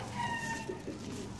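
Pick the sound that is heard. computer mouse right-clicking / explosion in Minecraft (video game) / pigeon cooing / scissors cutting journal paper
pigeon cooing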